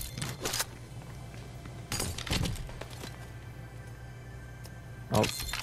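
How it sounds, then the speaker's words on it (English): Gunfire in the Fortnite battle royale game, a few sharp, nearby cracking bursts spaced several seconds apart, with a quieter steady game background between them. "Oh, gunfire near us."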